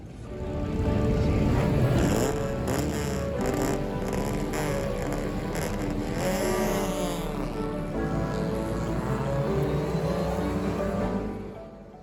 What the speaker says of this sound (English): we caught a glimpse of the Levant Cup, which was an all-MGB race